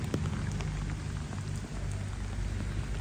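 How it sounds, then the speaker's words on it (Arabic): Heavy rain pours steadily onto surfaces, a dense continuous hiss of drops with a low rumble underneath, unbroken and with no talking. "الدنيا مبلوله برشا مطر، والمطر ماهيش باش توقف"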